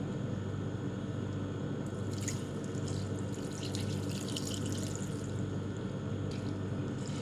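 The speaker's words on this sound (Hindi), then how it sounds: "ये मैंने यखनी बनाई थी सौंफ और धनिया और नमक से, इसको मैं डालूंगी" Strained yakhni stock made with fennel, coriander and salt poured into rice for aloo yakhni pulao, a steady faint liquid stream over a constant low rumble, with brief splashy bursts partway through.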